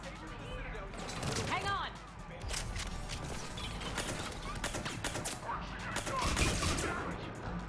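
Rapid gunfire from a firefight in Mass Effect 3 crackles on and off throughout, dense bursts mixed with game sound effects, while voices talk over the action.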